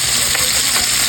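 Food frying in a pan sizzles loudly and continuously, a dense crackling hiss close by with no talking.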